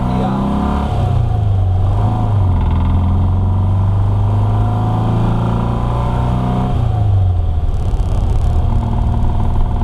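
A 1964 VW Beetle engine fitted with Empi dual carburetors runs loud and close, with a steady air-cooled idle that swells into rising revs and then settles back down, and no talking.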